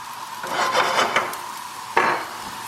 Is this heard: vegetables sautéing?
yes